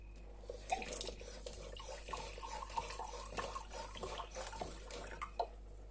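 Drinking water, purified borehole water from a shop, is drawn into a container for testing, giving a close, soft, uneven trickle with light splashes and drips over a low steady hum.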